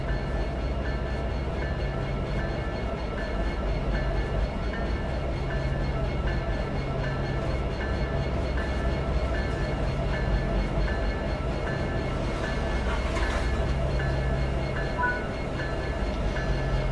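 Diesel rumble of an EMD GP60 locomotive in the High Iron Simulations train game, a steady low engine drone with a repeating mechanical tone pattern, continuous and fairly close, with no talking.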